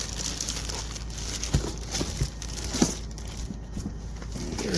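Plastic crinkles and rustles in soft, scattered bursts, close to the microphone, over a steady background hiss.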